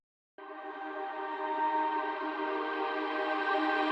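Tonal synth riser for an alternative rock track, entering suddenly after a short silence and swelling steadily in a bright, dense sustained chord with a slowly rising edge, loud and alone with no voices.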